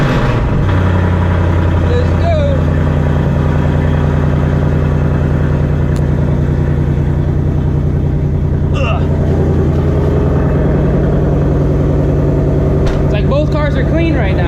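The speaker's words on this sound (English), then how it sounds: "So let's go ahead and get a cold start." Cold start of a 950HP Shelby GT350 V8, a loud, steady deep idle with a heavy low rumble that runs throughout, close to the car.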